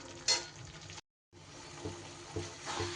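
Boiled cauliflower with spices sautéing in a pan, a soft sizzle and stirring scrape at close range, broken by a brief silent gap before the frying noise resumes.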